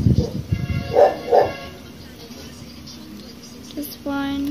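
An indoor dog gives a couple of short barks near the start, fairly close, followed by a quieter stretch and a faint higher yelp near the end.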